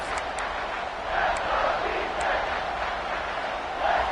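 A stadium crowd in the college football video game NCAA 26 cheers on a big third down late in a tight game, a steady roar that swells several times.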